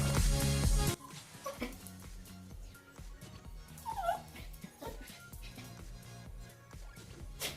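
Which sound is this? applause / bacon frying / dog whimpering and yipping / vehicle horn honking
dog whimpering and yipping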